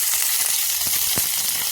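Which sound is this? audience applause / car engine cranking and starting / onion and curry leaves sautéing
onion and curry leaves sautéing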